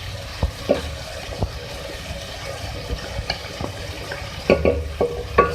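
Onion fries in a pan with ginger garlic paste for chicken korma, a low sizzle broken by several sharp stirring scrapes and clinks from a utensil, with no talk.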